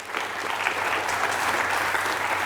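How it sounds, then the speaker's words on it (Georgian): A studio audience claps steadily for quiz contestant Mamuka after a book-quiz semifinal round, a dense, even applause filling the room without pause. "აპლოდისმენტები მამუკას"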